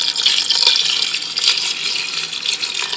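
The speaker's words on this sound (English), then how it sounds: "so I'm going to add a little more water." Water pours into an Instant Pot holding beans, a loud, close, continuous splashing gush with slight surges, running for about three seconds with no talking.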